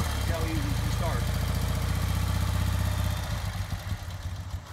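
A 1971 BMW R75/5 motorcycle engine, close and loud, running with a steady low idle pulse that eases off and turns more uneven toward the end.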